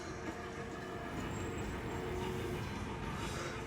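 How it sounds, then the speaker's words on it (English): A train rolls past as a steady, broad rumble with faint wheel squeal, moderately distant and even in level throughout, with no voices. "Well, there goes the train again."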